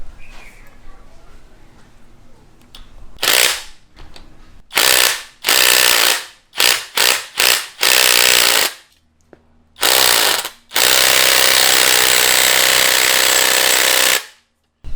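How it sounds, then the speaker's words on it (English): Impact wrench with a 10mm six-point socket hammering at a nut while fitting lightweight pulleys on a car, loud rattling bursts of varying length ending in one long sustained run, with quiet shop noise between. "take my impact wrench with a 10mm 6-point socket and just try to loosen this"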